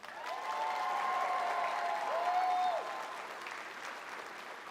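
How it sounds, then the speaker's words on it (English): Crowd applause at the MechaCon Omega opening ceremony, a steady wash of clapping that swells, holds, then tapers slightly, heard at a distance with a faint voice or tone running over it. "one last round of applause for all of our ambassadors"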